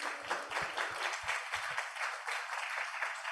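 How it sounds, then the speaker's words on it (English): Dense, steady applause from an audience at the close of a conference panel session on pandemic data governance, a continuous wash of many hands clapping, fairly quiet and distant, with no talk over it. "Please give a round of applause."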